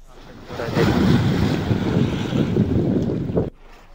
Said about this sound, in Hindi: शारदा नदी उफान पर है, इससे लोगों के खेत में नदी समा रही है।